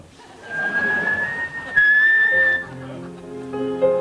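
A person whistles a wavering tune, the clear tones rising and holding, before a soft musical backing comes in underneath.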